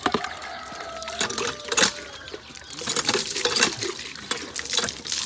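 Water from a village tap splashes and patters into a jug, with irregular clinks and spattering bursts at close range and no talk over it.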